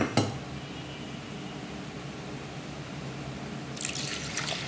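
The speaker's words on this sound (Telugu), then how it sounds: "ఇలా వేసుకున్నాక దీనిలోకి వాటర్ పోసుకోవాలి. వాటర్ పోసుకొని 2 సార్లు బాగా కడిగి" Water running into a vessel of moong dal for washing, a steady hiss and trickle at moderate level, opening with a sharp knock and ending with a brighter splashing burst.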